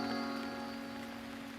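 Steady rain falls in a drama setting, a continuous dense hiss of drops on surfaces with no voices, even and moderately loud throughout.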